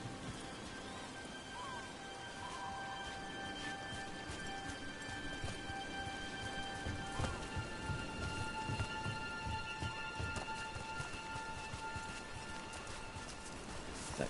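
Rain falling steadily in the video game Dragon Age: The Veilguard, a soft, even patter with faint dripping, quiet and continuous beneath low tonal ambience.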